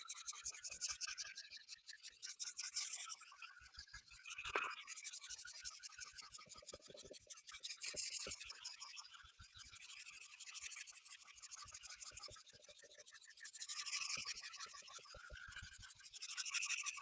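Hand wet sanding across a guitar body, steady back-and-forth rubbing strokes with a soft gritty rasp, close and fairly quiet, running continuously with no talking.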